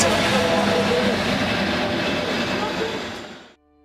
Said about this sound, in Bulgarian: В същия час четвъртия влак приближава гара Санта Елхения.